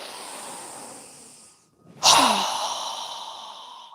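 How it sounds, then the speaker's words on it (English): A single strong mouth exhale during a yoga breathing exercise, a loud breathy whoosh that follows a quieter inhale and a short pause. "exhale through our mouth with a strong breath as we lower our arms and hands down"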